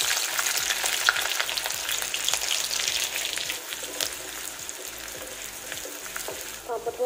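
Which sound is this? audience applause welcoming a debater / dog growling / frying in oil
frying in oil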